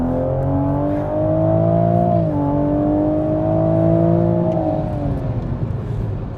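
A Toyota Supra engine with over 500 horsepower revs high and loud from inside, pitch climbing to nearly 7,000 rpm, dipping briefly as it shifts, then climbing again in a sustained whine.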